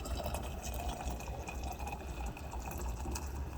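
Very hot water filling a canning pot for water-bath canning of cranberry juice blends, a steady gushing, bubbling pour with small splashes and drips, continuous and close.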